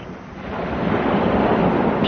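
Wind and ocean waves on a beach: a continuous loud wash of surf that swells gradually, with wind buffeting the microphone throughout.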